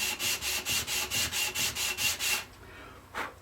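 Sandpaper rubbed back and forth along the edge of an MDF board in about eleven quick, even strokes, followed by a short pause and one final stroke.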